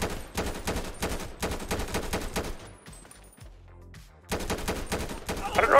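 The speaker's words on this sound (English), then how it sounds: "I'm getting shot." GTA 5 gunfire in a city gang fight, long rapid automatic bursts of shots rattling close and steady, a brief lull with scattered sounds, then another sustained burst of fire.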